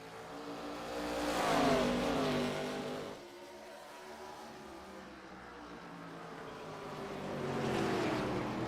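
Race cars in an ARCA Series Stabil 140 race at Lucas Oil roar past, engines swelling and fading in a steady low drone with rising and falling revs, moderately distant.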